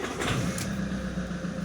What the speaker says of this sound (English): The engine still turns on, but it turns on very difficultly.